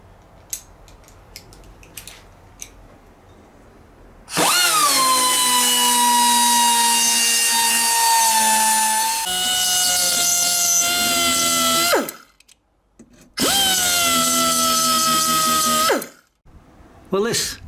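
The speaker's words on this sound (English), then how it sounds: "This is the die grinder" Die grinder cutting a steering bearing outer race on a Kawasaki GPZ 500, a loud high-pitched whine that spins up, holds for several seconds, dips briefly, then cuts out and starts again for another long run, with a few faint clicks between.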